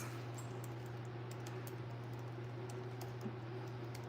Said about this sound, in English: He's typing it out.